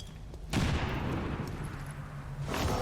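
A grenade blast and gunfire in the video game XCOM 2 make a sudden loud, booming burst that rolls on as dense rumbling noise, followed by another rise of explosive roar.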